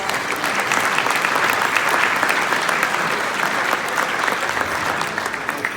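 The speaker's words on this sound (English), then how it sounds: "let's just give ourselves a round of applause" Steady, loud applause from a large crowd at a municipal league luncheon, sustained clapping that fills the whole stretch without letting up.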